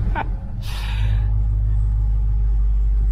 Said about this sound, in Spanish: Cada vez que prendo el motor del Hellcat me produce una sonrisa